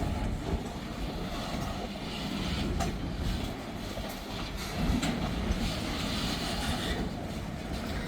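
A freight train rumbles past along a county road, a steady broadband roar with faint rhythmic clatter and wind noise running throughout at moderate distance.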